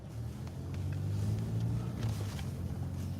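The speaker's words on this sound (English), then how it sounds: "I want this car to go by me." A car drives past on a residential street, its low engine rumble swelling to a peak mid-way and then easing off as it moves away, with no talk.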